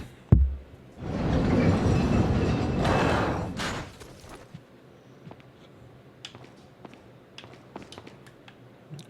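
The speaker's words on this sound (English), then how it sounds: "And on another tram." A tram in the video game Resident Evil 4 rolls along with a loud, steady rumble for about three seconds after a sharp clank, then fades into quieter ticks and distant clatter.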